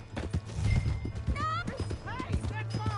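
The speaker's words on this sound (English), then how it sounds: "Hey, that's my horse!" A horse in the Red Dead Redemption 2 video game clip-clops and whinnies, its hoofbeats steady under a loud rising neigh, while people talk over it.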